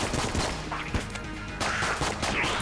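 Rapid gunfire in the video game Enter the Gungeon, a continuous loud stream of overlapping shots and bursts with a brief dip midway, against busy game audio.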